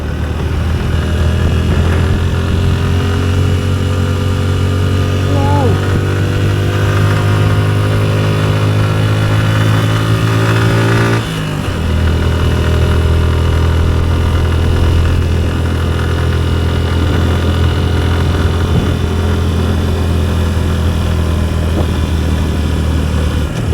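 A Suzuki Gixxer 155fi motorcycle engine, about a year old and said to sound rough, runs steadily near at hand for over twenty seconds with a low, even drone and a brief dip in pitch midway.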